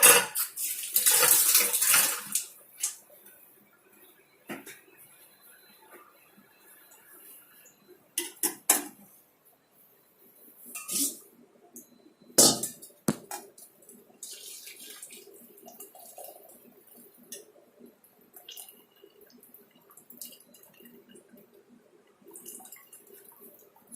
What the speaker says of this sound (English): Now I am going to strain it.